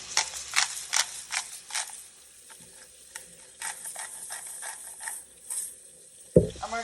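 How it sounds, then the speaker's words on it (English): A spoon stirs mushroom stock sauce in a pan, giving soft, close scraping and swishing strokes in uneven bursts with quieter gaps, ending in a louder knock against the pan, with no talking. "we're going to stir this until it's all combined and kind of the sauce comes together"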